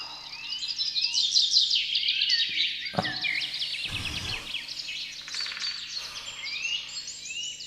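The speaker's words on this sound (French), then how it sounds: "Le chant des oiseaux a pris le relais." Birds sing continuously in a dense chorus of chirps and trills, with a couple of low thuds breaking through midway.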